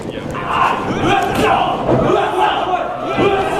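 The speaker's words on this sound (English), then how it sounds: "Don't worry about the fans. Don't worry about the cheering." A wrestling crowd at an UpRyse show roars and shouts in loud, surging waves, with voices mixed into the din.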